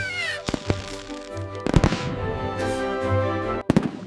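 Fireworks burst at a summer evening display with a barbecue, several sharp booms and crackling bangs spaced over a few seconds, loud and close, with a steady low rumble between them.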